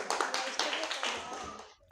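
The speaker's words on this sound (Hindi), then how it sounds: "वेरी गुड, ताली बजा दो" A short burst of clapping from a small group during a classroom quiz game, close and fairly quiet, fading out after about a second and a half.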